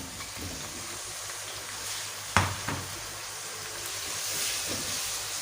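Beef pieces hit a hot pan of softened onions for achari gosht, giving a sharp sizzling burst that settles into a steady, moderate frying hiss with faint stirring clatter.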